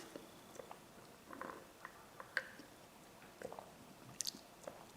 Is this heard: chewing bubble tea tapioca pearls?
yes